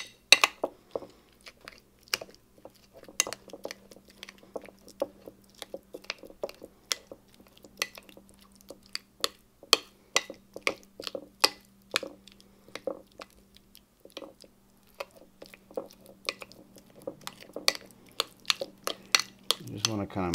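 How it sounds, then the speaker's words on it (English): Avocado being mashed with a spoon in a bowl for avocado toast: repeated soft squishy clicks and scrapes of the spoon against the bowl, close and fairly quiet, with a low steady hum underneath. "You just want to kind of mash it into a little paste."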